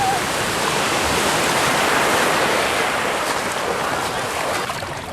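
Ocean waves break on the shore in a steady, close, broadband roar of surf that stays loud throughout, with a faint whistle near the start.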